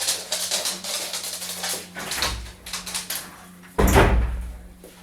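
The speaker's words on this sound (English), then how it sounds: "I'm gonna have to open the door" A door being opened, with bumps and clunks of the latch and frame, then a loud thud near the end over a steady low hum of a room.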